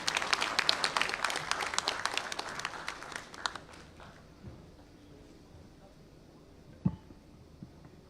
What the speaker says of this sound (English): let's hear it up with a bigger round of applause for sir